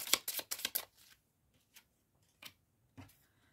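Tarot oracle cards being shuffled, handled and drawn, with a quick burst of crisp riffling followed by a few separate flicks and slaps as single cards are turned, close and clear.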